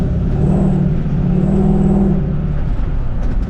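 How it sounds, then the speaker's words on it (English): A Mustang 5-liter V8 swapped into a 1960 Ford F100 truck rumbles loudly and close, a deep steady idle with a low throaty drone and slight swells in pitch. "And I absolutely love to hear the sound of that Mustang engine."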